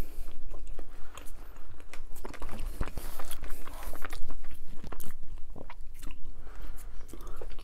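Close, crunchy bites and chewing of gluten-free Chicago deep dish pizza at a mukbang in London, irregular wet crunches and mouth sounds repeating throughout, with no talk.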